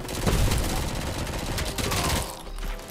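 Rifle gunfire in the video game RoboCop: Rogue City, a dense burst of loud close shots with heavy low-end blasts that drop away near the end.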